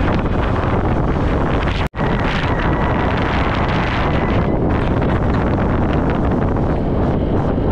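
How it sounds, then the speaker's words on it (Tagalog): Strong wind carrying sand roars steadily into the microphone at a housing project, a constant rushing buffet with one brief dropout partway through. "Sarap ng hangin dito, may kasamang buhangin."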